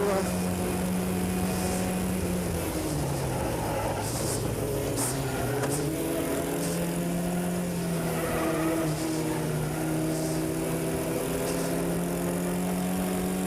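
Race cars lap a circuit at the Skip Barber racing school, with a loud engine drone that climbs and falls through gear changes as other cars pass close by.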